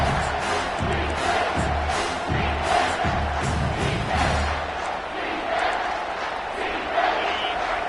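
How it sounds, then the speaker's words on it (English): A packed college football stadium crowd in a Washington vs FAU video game roars and chants, rising in loud, swelling waves with rhythmic stomping early on, while a commentator talks over it. "This crowd rising up, sensing that its defense needs some help."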